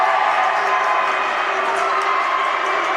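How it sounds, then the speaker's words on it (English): A steady crowd roar fills a gym during a women's college basketball game, a sustained wash of cheering and shouting with no break. "And listen to the crowd."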